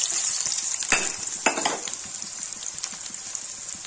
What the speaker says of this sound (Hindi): इसमें डालेंगे प्याज